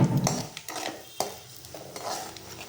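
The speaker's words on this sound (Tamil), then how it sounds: "வடகம் இருந்தால் வடகம் போட்டுட்டு நல்லா வதக்குங்க." Vadagam is stirred as it fries in hot oil in a pan for a fish curry, with repeated scraping strokes of a spoon against the metal over a soft sizzle, close and alone.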